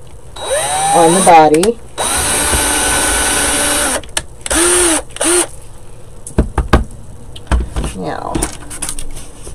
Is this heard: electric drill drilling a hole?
yes